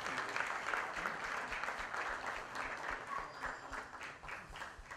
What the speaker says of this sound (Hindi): एक बार जोरदार तालियों के बीच में अनूप जलोटा जी। जोरदार तालियां आप सभी की।